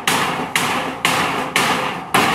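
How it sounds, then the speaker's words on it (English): Hammer blows ring out from a roof being finished outside a house in the Philippines: five loud, evenly spaced strikes about twice a second, each trailing off before the next. "doesn't seem disturbed by the hammering out there."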